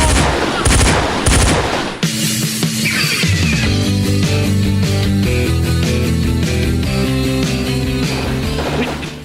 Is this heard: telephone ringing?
no